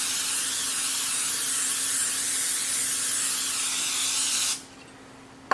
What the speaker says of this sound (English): I'm just going to spray them generously with the butter spray.